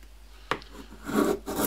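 A freshly sharpened and honed chisel slices into a piece of wood, giving a sharp bite followed by short, close rasping shaves in a quiet room.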